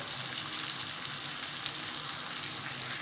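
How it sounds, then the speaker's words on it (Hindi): Potatoes fry with chilli, coriander powder, turmeric and salt in a pan, giving a steady, dense sizzle with no pauses, fairly close and loud throughout. "थोड़ा हम मसाले के साथ भूनेंगे तो गल जाएंगे।"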